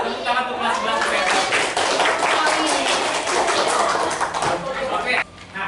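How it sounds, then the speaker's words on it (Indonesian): A high school class 11 IPS 1 gives a round of applause in the classroom, a busy spatter of hand claps mixed with many students' voices and chatter, fading near the end. "Tepuk tangan untuk kelas 11 IPS"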